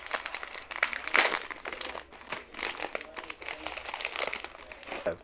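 Plastic wrappers from a second box of card packs crinkle and crackle loudly up close, in irregular bursts of crumpling as the packaging is handled and torn open.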